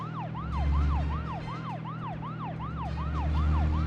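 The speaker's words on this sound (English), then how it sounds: "We get there a little bit faster if we just leave the siren on." A police car siren in the video game Deadly Premonition wails continuously in a fast, regular up-and-down sweep, loud and close over a low vehicle engine hum.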